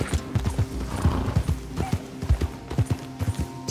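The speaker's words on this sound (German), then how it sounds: "Irgendwie höre ich noch mehr Pferdegetrappel." Horse hoofbeats from Red Dead Redemption 2, steady clip-clop strikes repeating at a brisk rhythm, fairly close and moderately loud, with a faint whinny-like tone and no talking.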